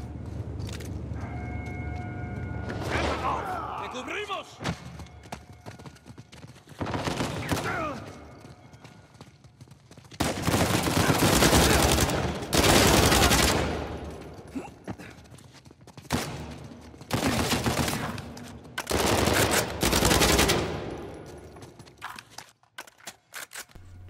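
Bursts of rapid automatic submachine gun fire in Uncharted 4, loud and close, several long volleys separated by short gaps, with a voice talking in between.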